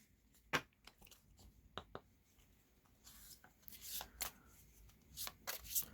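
Tarot cards shuffled and handled by hand at close range, with soft papery riffles, rubs and slaps in irregular bursts that grow busier toward the end, quiet and with no talk.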